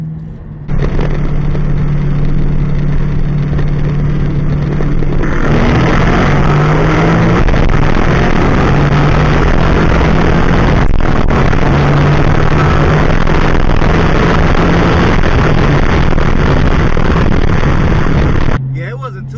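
Recorded race of a mostly stock Ford 5.0 car, a loud sustained engine roar that climbs in pitch as it accelerates through gears, heard close with steady road and wind noise and no talk.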